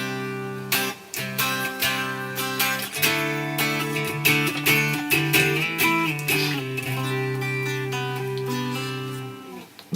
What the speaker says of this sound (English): That's a clean tone.